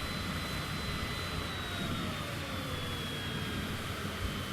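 An executive jet's engine in Flight Simulator 2020 makes a continuous loud whine and roar with a slowly falling high tone, steady throughout and with no talking.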